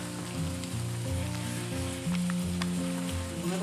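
Cabbage burger meat sizzles and fries in a pan, a continuous close crackling hiss with scattered pops and a low background hum.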